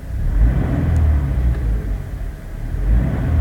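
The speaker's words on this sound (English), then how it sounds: "of course, I am running the car" A Toyota car engine runs at idle, a low steady rumble with a faint whir over it, close and continuous with no speech.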